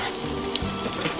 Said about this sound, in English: And now the bacon.